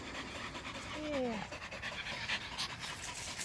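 A dog pants with quick, steady breaths outdoors in a field during a game of fetch, close and fairly loud throughout, with a brief whine partway through.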